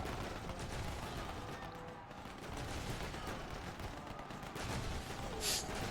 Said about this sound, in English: More assault cannons coming for this watchtower.